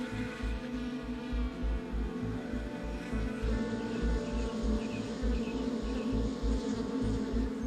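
Worker bees buzz steadily around their hive in farm fields, a dense, continuous insect hum with a pulsing low throb and no voices.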